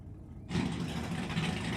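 Drag race cars at Sydney Dragway revving hard after their burnouts, a loud, steady engine roar that cuts in abruptly after a low rumble and holds at high revs.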